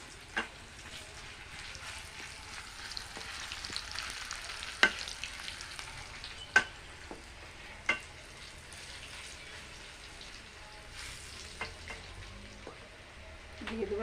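Garlic fries quietly in a pan for a Gathi kochu dish, a soft steady sizzle with a few clinks of stirring, fairly faint and without talking.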